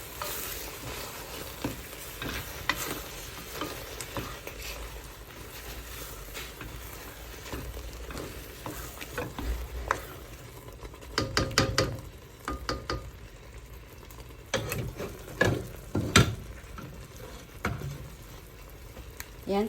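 Spoon stirring and scraping through a thick mung bean stew in a pot, with soft sizzling and bubbling beneath and a few sharper clinks near the end.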